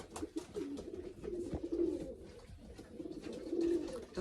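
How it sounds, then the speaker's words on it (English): Two pigeon cocks squabble over a path in a loft, giving repeated low throaty coos and rustling scuffles close by, with no talk over them. "Two cocks fighting over the wee path that I built there."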